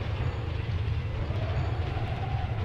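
A moving train in the video game Pinstripe gives a steady low rumble with a faint rolling rhythm, continuous and fairly close throughout, with no voices over it.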